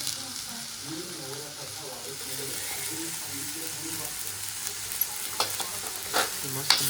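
Red leafy vegetables are tossed into a pan of fried onion and stirred in a Malvani home kitchen, with a continuous close sizzle and repeated scraping stirs, while a voice talks faintly in the background.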